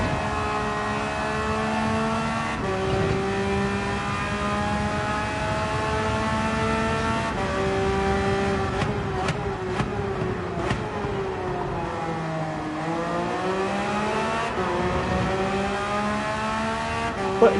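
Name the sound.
Porsche race car driving in the video game Gran Turismo 7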